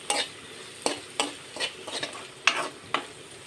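Spices for a sugar-sweetened chana dal fry in a pan under a faint sizzle, stirred in about eight distinct scraping strokes of a spoon against the metal, with no talking.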